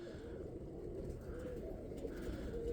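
Roller pigeons coo in low, throaty repeated phrases inside a loft, several birds murmuring softly and steadily at close range in a quiet space.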